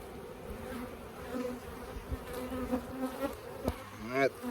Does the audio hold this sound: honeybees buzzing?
yes